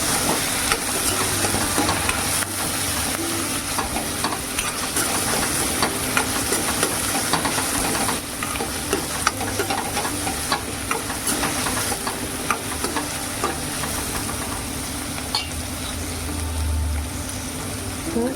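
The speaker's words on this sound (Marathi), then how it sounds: "आता आपण त्यामध्ये टॉमॅटो टाकूया कांदा थोडा मऊ होऊ द्या" Chopped onion and tomato sizzle in a pan for a field-bean curry, giving a loud, steady hiss and crackle with occasional stirring scrapes, close up and continuous.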